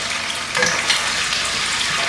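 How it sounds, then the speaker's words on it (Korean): Oil sizzles and crackles steadily as finely diced tofu fries in a pan, a close, dense hiss with a few louder pops and stirring clatter. "두부를 먼저 튀기도록 하겠습니다"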